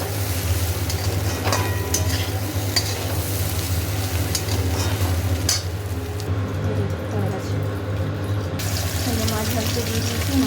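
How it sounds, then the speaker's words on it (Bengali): Fish fries in oil in a pan with a steady close sizzle, punctuated by occasional scrapes and stirring clicks, as the crackling continues unbroken throughout. "মাছ ভাজতে দিয়ে দিয়েছি, মাছ ভাজা মোটামুটি হয়ে এসছে"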